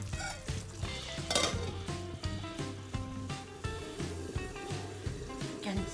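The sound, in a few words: beef pepper fry simmering in a covered pan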